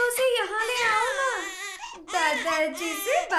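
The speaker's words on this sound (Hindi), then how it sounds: "उठा ले बच्चा रो रहा है" A baby cries in long, loud, wavering wails with a brief catch of breath midway, close and continuous, on a dramatic film soundtrack.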